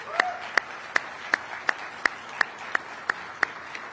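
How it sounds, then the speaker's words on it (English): Audience claps at a drill sergeant of the year competition to recognize the event's cadre, heard as a steady run of evenly spaced, sharp claps that are fairly crisp and close, over a quiet room. "Give them a big round of applause."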